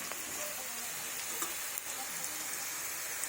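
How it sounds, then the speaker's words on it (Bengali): Potatoes and vegetable stalks fry together in a pan for a mixed-vegetable chhachra, giving a steady, close hiss of sizzling oil with faint crackles and light stirring, and no voices. "খুব সুন্দরভাবে আলু আর এই কবির ডাঁটগুলোও একসাথে ভেজে নিচ্ছি।"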